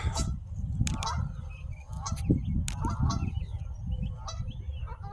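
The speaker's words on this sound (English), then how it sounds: "We got a family of geese out there." Several geese, a family at a pond, honk repeatedly and loudly at close range, overlapping calls over a low rumble of outdoor background noise.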